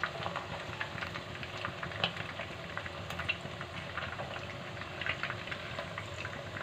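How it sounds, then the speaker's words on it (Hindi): Mutton seekh kebabs frying in a pan, a steady close sizzle and bubbling hiss that runs throughout with small crackles and pops rising above it. "इस तरीके से हम अपने तमाम कबाब फ्राई कर लेते हैं"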